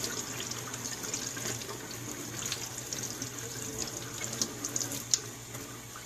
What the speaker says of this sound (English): cut the oil a bit, and then rinse them